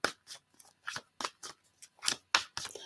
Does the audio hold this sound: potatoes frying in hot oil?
no